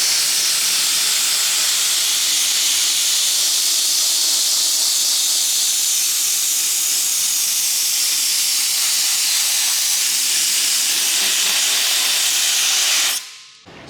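Dry ice pellets blasting a pitted car wheel, a loud, steady hiss held close for about thirteen seconds before cutting off abruptly.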